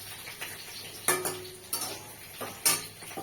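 Peeled pointed gourd (potol) frying in a pan, with a soft sizzle underneath and several sharp metallic clinks of a utensil against the pan at irregular intervals.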